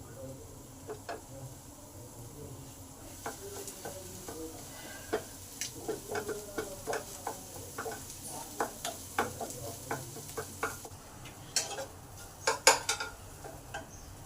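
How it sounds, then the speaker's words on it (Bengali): Soft frying of onion and egg in a pan, with scattered clicks and scrapes of a utensil against metal, moderately close, no talking. "একদিকে পেঁয়াজটা আমার ভাজা হচ্ছে একদিকে ডিমটাকে আমি ভেঙে ভাজা করে নিচ্ছি"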